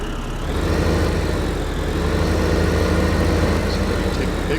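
A big tractor engine runs steadily in a farming simulator, a continuous low idling rumble that stays close and even throughout with no talking.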